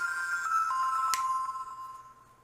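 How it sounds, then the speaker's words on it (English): A short electronic startup tune from a Wogiz X15 Android smartphone plays faintly and steadily with a brief tonal chime, trailing off quietly at the end. "there's always a little song that plays when the phone first boots up"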